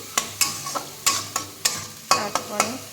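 Spice paste with chopped tomato being sautéed in oil in a pan, a spatula scraping and stirring in about nine sharp, regular strokes over a steady low sizzle, close and fairly loud with no talk.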